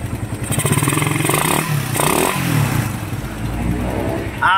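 A Honda Click motorcycle engine idles loudly up close and revs up and down repeatedly, with a rattly mechanical clatter running underneath.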